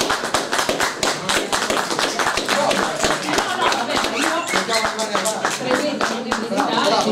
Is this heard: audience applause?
yes